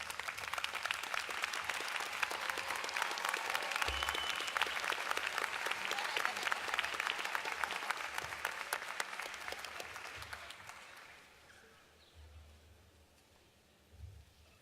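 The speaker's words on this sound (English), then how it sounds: "Please rise, turn, and give your supporters a round of applause." A graduation audience at a law school commencement in Camden rises and applauds their supporters, a dense sustained wash of clapping from a large crowd that fades out toward the end.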